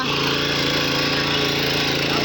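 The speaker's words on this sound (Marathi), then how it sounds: "तुम्ही अगदी नऊ एच पीच्या पॉवर सारखी मशागत चालू आहे" A 9 HP power weeder with rotor and harrow attachments tilling a cotton field, its engine running loud, close and unbroken with a rough, rapid mechanical chatter.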